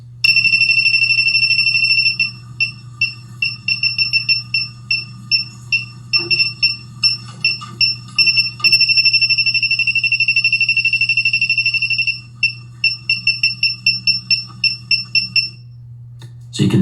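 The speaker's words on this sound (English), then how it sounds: "it starts to beep faster and the light blinks faster as you get closer and closer to the exact location of your leak" A handheld gas leak detector beeps in quick repeated bursts against a steady low hum, the beeps briefly pausing and then speeding up as it closes in on a natural gas leak at a tankless water heater indoors.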